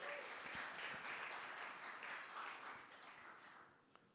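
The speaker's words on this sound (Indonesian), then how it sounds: "Kasih tepuk tangan untuk Tuhan Yesus." Applause from a congregation during a church service, quiet and distant, fading gradually toward the end with a few distinct claps near the start.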